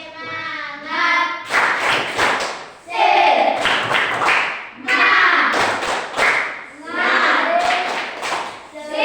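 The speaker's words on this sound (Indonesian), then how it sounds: "coba kita tepuk semangat" Children in a classroom do a rhythmic clapping chant, bursts of group claps and chanting voices alternating in short patterned phrases, loud and close.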